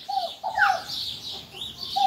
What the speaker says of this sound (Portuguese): E ouça os pássaros cantando.